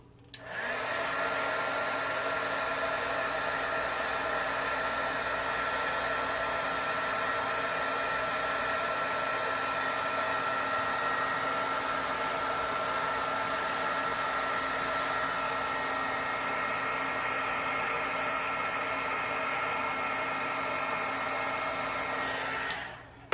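Heat gun warming heat-shrink-sleeved wires during repair of a 1929 Edison Model R-4 high-boy radio, a steady, even blowing whine running unbroken for about twenty seconds, close and alone with no talk.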